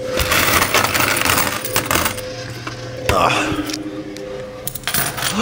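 Coins drop and clatter in a coin pusher machine, with bright metallic clinks and jangles, several separate impacts and a louder burst of coins partway through, heard close up.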